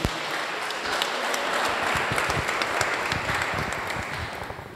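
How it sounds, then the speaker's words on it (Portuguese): A church congregation claps together in sustained applause, a dense crackle of many hands filling the room at steady loudness, with a few louder individual claps standing out. "Vamos dar uma salva de palmas a Jesus."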